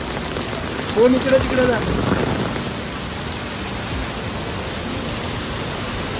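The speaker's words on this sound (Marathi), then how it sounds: "पाऊस आहे, भिजलोय ना गांडून." Heavy rain pours steadily onto a street in Belapur, a dense hiss throughout, with someone talking briefly over it near the start.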